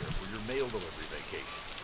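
Rain falls steadily by a lake in the video game Mail Delivery Simulator, a soft continuous patter under the game's music and ambience.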